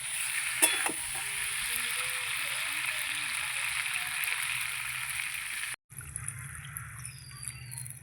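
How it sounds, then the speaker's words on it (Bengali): Spiced vegetables that have been well fried sizzle steadily in a pan as water is poured in, with a steady hiss and a brief trickle early on, then a short cut followed by a quieter, lower bubbling sizzle. "এবার জল দিয়ে দিচ্ছি।"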